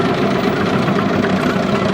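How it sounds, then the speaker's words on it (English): Antique John Deere tractors, one labeled 1938, rumble loudly past in a Christmas parade, a steady, dense engine drone with a throbbing, knocking texture and no break. "We've got the Gordon family John Deere tractors."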